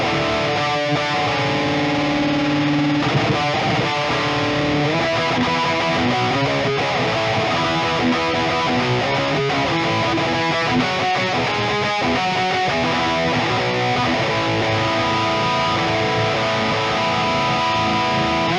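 Electric guitar played through an IK ToneX amp model based on a 5153 high-gain amp, a thick, saturated distorted tone sustained loudly for the whole stretch with busy riffing and no talking.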